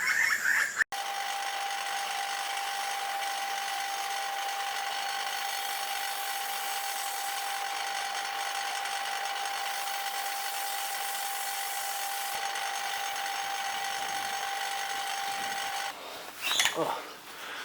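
A belt sander hums steadily as it shapes chamfers on a wooden swimbait lure, a loud close whine holding for about fifteen seconds before it stops, with brief voice sounds near the end.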